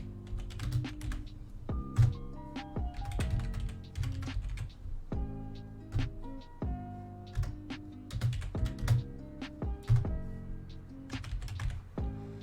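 Keys clatter on a computer keyboard in quick, irregular bursts of close, crisp clicks and thocks, with short pauses between words and no talking.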